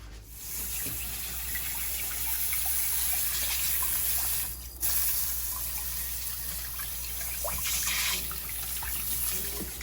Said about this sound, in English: So now we're gonna dump this out, rinse it again with water, and we're gonna repeat the process.